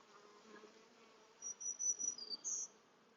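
Faint honey bee buzzing at an open hive drifts in and out, rising in a few brief, stronger bursts toward the end over a low hum.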